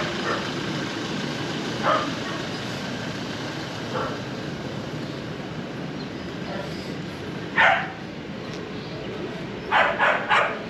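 Dogs bark in a residential neighbourhood in the Philippines, several short yaps and barks scattered at moderate distance over steady outdoor background noise, with a cluster of quick barks near the end.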